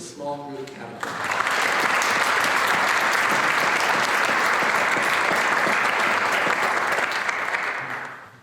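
Applause from an audience at a youth awards ceremony, a sustained burst of many hands clapping for about seven seconds before fading, following a brief spoken announcement.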